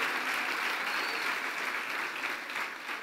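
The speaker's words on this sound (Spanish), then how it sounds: "Dele fuerte el aplauso al Rey." A church congregation applauds loudly and steadily for the whole stretch, a dense wash of clapping that fades slightly toward the end, with no one speaking over it.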